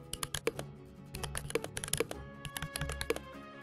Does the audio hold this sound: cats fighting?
no